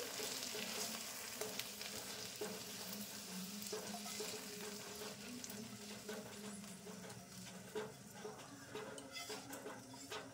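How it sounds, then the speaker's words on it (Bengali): Half-boiled lentils being stirred in a pan with added ingredients for dal moglai, a steady sizzle and bubbling under repeated scrapes and clinks of a metal spoon against the pan. "এবার আমি ডালের সাথে এগুলো মিক্স করে দিচ্ছি"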